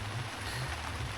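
Rain falls steadily in a continuous wash of patter, with a faint low rumble pulsing underneath and no voices.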